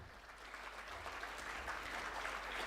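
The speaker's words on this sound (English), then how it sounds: "you should have a huge round of applause for each one of you" An audience at an academic conference on innovation, governance and sustainability breaks into steady, dense applause, a continuous wash of many hands clapping at even loudness with no voices on top.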